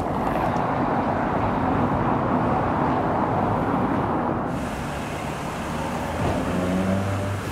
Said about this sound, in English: Here's some engines revving.